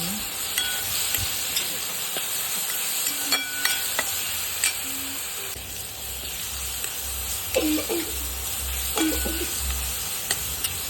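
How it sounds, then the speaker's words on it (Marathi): Green chilli paste fries with onions in a pan for a shepu (dill) vegetable dish, a steady close sizzle and hiss with occasional spoon scrapes and taps throughout, no talk. "हिरवं वाटण केलेलं हिरवी मिरची ते टाकून दिले त्याला पण दोन मिनटं पण मस्तपैकी"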